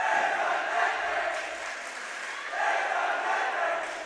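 A cheering section at a senior-night high school varsity volleyball match keeps up a loud, sustained roar of crowd voices that dips slightly in the middle and then surges again.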